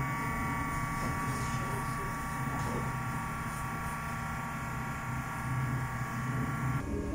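A DTF printer runs a print head cleaning cycle, with its wiper and capping station working: a steady mechanical hum and motor drone with a faint buzz throughout, fairly quiet and close, with speech at times.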